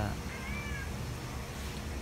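A cat gives a single short meow early on, heard over a steady background hum and faint voices.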